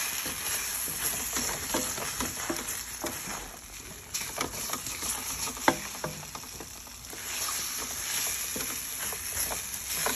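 Potatoes and eggs frying in a pan, a soft steady sizzle with scattered scraping and stirring clicks throughout, fairly quiet and continuous with no talking.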